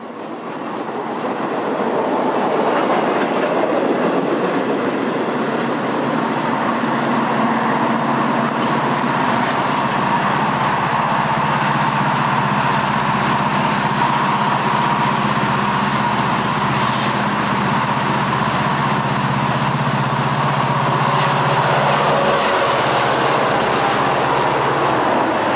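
A heavy diesel freight train climbing a steep railroad grade drones steadily for the whole stretch, a deep sustained engine roar with a mid-pitched hum, loud and fairly close.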